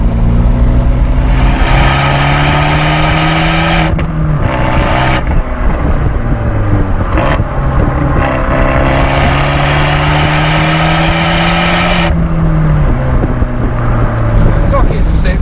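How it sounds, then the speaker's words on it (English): Loud Abarth 124 Spider 1.4 engine revving and droning continuously, pitch rising and falling through gear changes, with brief gaps where the exhaust crackles with partly artificial pops; a voice talks over it. "some of the pops that come from this exhaust are artificial"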